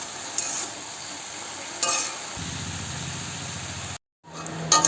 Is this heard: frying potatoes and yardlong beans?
yes